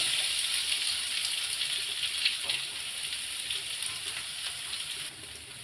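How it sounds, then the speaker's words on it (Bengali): Potatoes frying in hot oil in a pan make a bright, continuous hissing sizzle, close and fairly loud, fading slightly toward the end with no voices over it. "আলুটাকে একটু ভেজে নিই।"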